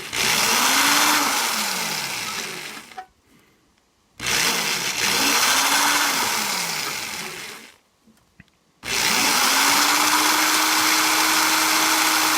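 A power drill with a dull bit whines loudly in three long bursts, its pitch sagging and straining under load, with short pauses between runs.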